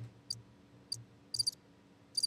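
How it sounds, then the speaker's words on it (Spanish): Cricket chirping sound effect played on a podcast, a few short, high, faint chirp bursts spaced irregularly over a low background hum. "Vuelve a poner los grillos."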